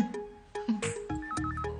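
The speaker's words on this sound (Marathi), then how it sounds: "फोन वाजला बघ" A telephone rings indoors with an electronic ringtone: a stepped, repeating melody of clear tones, played alone with no voices over it.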